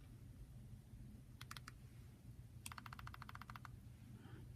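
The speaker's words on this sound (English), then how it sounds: "I'm going to type in" Two short bursts of typing on a computer keyboard while a math equation is entered, a brief cluster of clicks followed by a longer rapid run of keystrokes over a steady low hum.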